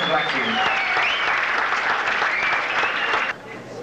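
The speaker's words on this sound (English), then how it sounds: "They're getting tired with the applause." An audience at a 1983 Toronto beauty pageant claps steadily, a dense wash of applause that drops off sharply near the end while a voice carries on over it.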